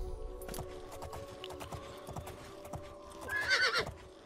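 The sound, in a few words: horse neighing and hooves, video game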